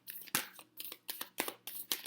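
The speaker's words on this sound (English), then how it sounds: "I'm shuffling and 2 cards came out" Tarot cards are shuffled by hand in quick, crisp riffling bursts, about six rapid rustling strokes in a steady rhythm, close and clear, with a faint low hum beneath.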